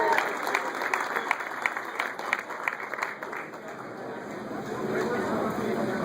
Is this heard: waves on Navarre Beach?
no